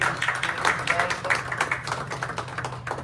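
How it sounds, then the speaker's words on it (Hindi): Clapping at a jewellery showroom grand opening, a cluster of nearby hands beating in loose rapid rhythm over a steady low hum, with a voice talking briefly. "जोरदार तालियां बजाएंगे।"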